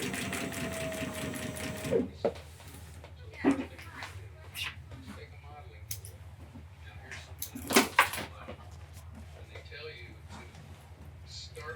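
A sewing machine stitches steadily after its top thread tension is tightened, a continuous low mechanical hum with a few louder clicks and knocks over it.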